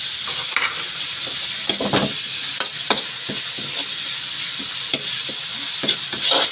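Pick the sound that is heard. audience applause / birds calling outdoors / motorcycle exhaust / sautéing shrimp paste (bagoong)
sautéing shrimp paste (bagoong)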